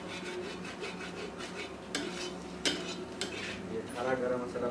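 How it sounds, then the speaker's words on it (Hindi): Chicken masala being stirred in a pot, with a ladle scraping and knocking against the metal in steady rubbing strokes, a few sharper clinks standing out over a low background hum. "इसको आप लोग इसी तरह से मतलब हमेशा चलाते रहते हैं"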